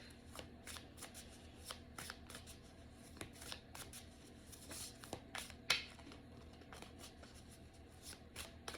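A deck of oracle cards is shuffled by hand, giving close, repeated riffling and flicking bursts in an irregular rhythm over quiet room tone with no talking.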